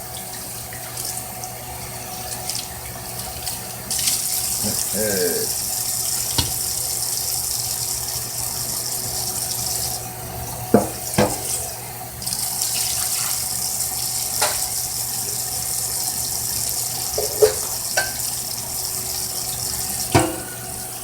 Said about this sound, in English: We're getting as much of the dishes done as possible.